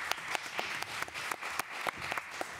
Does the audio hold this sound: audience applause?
yes